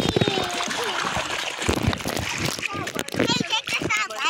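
Water splashes and trickles in irregular bursts, close by, with voices talking over the sloshing.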